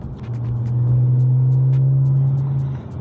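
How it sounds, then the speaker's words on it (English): A Stage 2 Audi S5 engine and exhaust in dynamic mode, a steady deep droning note that swells up, holds loud and close for a couple of seconds, then eases off, heard alone without talk. "So I've just put it into dynamic mode, and the throttle response has really picked up. Lovely sound from the exhaust"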